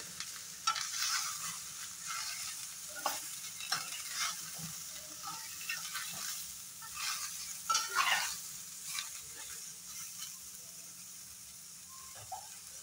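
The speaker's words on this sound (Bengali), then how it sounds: "সবগুলো সবজি সুন্দর করে মিলিয়ে দেবো।" Mixed vegetables stirred in a pan with no oil, with a soft steady sizzle and hiss beneath repeated close scraping strokes of a utensil against the pan, uneven in rhythm and moderately quiet, with no talk.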